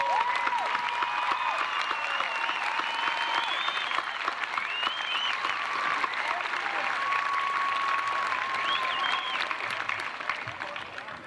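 Sustained applause from a large crowd at a graduation ceremony, steady and dense clapping filling the room for the whole stretch, with a few faint voices mixed in.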